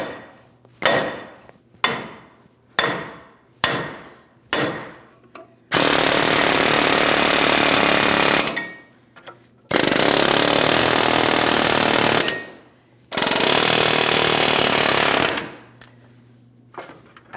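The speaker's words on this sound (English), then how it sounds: "I'm just going to continue on with my hammer." Five sharp, evenly spaced metallic hammer blows ring out, then three long, loud bursts of rapid pounding separated by short pauses, as a front wheel bearing hub is hammered out of the knuckle on a GMC Sierra 2500 HD.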